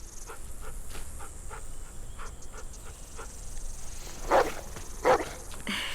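Dog in The Walking Dead video game, heard as soft, rhythmic panting with a few short, sharp yips or barks near the end, quiet overall.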